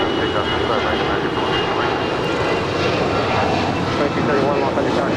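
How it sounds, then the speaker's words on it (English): An American Airlines Airbus A319 taking off at Los Angeles International Airport, a loud, steady, broad engine roar filling the whole stretch, close and continuous, with radio chatter mixed in. "That was American 413 departing to Phoenix on an A319."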